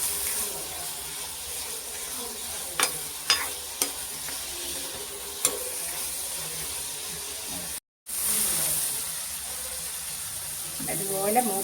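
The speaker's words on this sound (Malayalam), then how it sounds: "നമുക്കിത് എല്ലാം ഒന്ന് വഴറ്റിയെടുക്കാം" Coconut pieces, tamarind and green chillies sautéing for a prawn pickle: a steady, moderate sizzle with occasional stirring scrapes and clicks, briefly cut out near the end.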